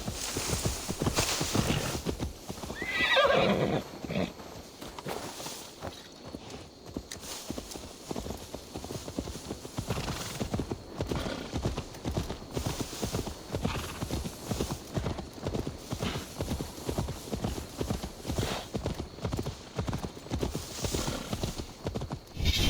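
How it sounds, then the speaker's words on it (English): Horse hooves clip-clop steadily through a stretch of Assassin's Creed Valhalla gameplay as a horse is led along, with a loud neigh near the start and a constant busy game soundscape underneath. "Now to deliver Magni his horse."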